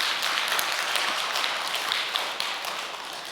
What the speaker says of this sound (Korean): 큰 감사의 박수 한번 보내주시면 고맙겠습니다.